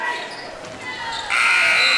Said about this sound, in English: the buzzer rings for halftime